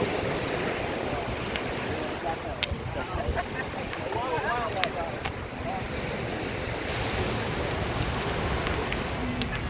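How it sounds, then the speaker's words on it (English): Surf washing onto an eroded beach at Fort Myers Beach, Florida as the tide comes in, a steady broadband wash of waves with wind noise buffeting the microphone throughout. "The tide is coming in."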